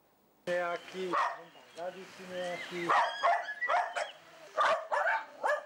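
Several dogs in a village yard in Tužina bark and yip in quick irregular bursts, close and loud, with some whimpering, while a person speaks at times.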